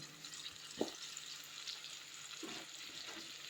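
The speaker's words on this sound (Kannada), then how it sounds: "ಇವಾಗ ಬೆಳ್ಳುಳ್ಳಿ ಹಾಕ್ತಾ ಇದ್ದೀನಿ ಇವಾಗ ಶುಂಠಿ ಹಾಕ್ತಾ ಇದ್ದೀನಿ" Garlic and ginger frying in a pan for a sprouted horse gram sambar, a faint steady sizzle with a few soft stirring scrapes and no talk.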